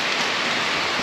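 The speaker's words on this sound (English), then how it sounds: "this weather is just not letting up. It's like torrential downpour" Torrential rain pours down outdoors in a dense, unbroken hiss, loud and steady with no pauses.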